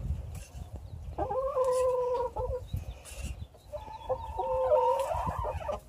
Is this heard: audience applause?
no